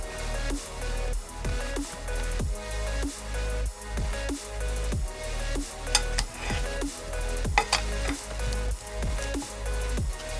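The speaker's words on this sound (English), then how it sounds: "I'm trying to mix it all together so that the salt and pepper can get into each and every one of the plantain" Sliced plantain being stirred and tossed with salt and ground pepper, giving a steady run of soft wet mixing and clicking contact sounds close by, with no talk.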